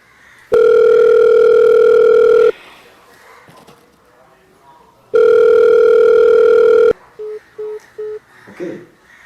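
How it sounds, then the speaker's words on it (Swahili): A phone's ringback tone sounds while someone calls from home in a Tanzanian drama scene, two long steady ring bursts with a pause between, followed by short beeps and brief speech. "Ngoja kumpigia simu."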